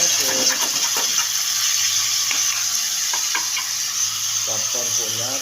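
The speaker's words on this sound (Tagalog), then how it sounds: "Halo-halo ng kunti para ito yung taba ng baboy." Pork fat sizzles and crackles steadily in a hot pan, with occasional scraping of a utensil as it is stirred.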